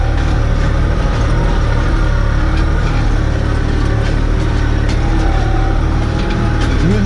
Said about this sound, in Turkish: Buralarda seri bir gidiyor traktör ya sıkıntı yok.